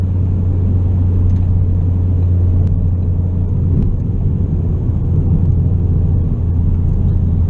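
Steady low engine drone inside the cabin of a 2016 Ford Focus RS cruising at highway speed on light throttle, a loud, constant rumble with road and wind noise and no talking.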